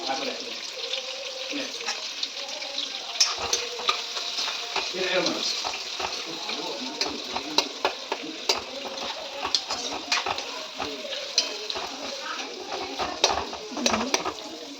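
Onions fry with a little salt in a pan, a steady broadband sizzle with frequent sharp crackles and pops throughout, close and continuous, while a voice talks over it.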